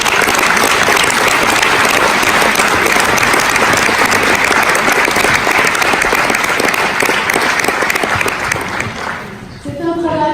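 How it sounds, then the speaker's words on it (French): Sustained applause from an audience at a New Year's address, a thick, loud wash of clapping that holds for several seconds, then thins and fades out near the end. "je pense qu'on peut les applaudir"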